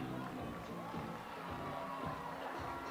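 Crowd applauding a batsman at an under-15 schools cricket final: a steady, fairly faint wash of clapping and murmuring from the stands, with no break.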